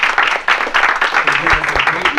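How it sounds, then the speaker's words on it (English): Audience applause welcoming Kirk Davis at a speaker introduction, with distinct bursts of clapping in an uneven rhythm and a low thump near the end, fairly close and loud. "everybody give a round of applause for Kirk Davis as he comes"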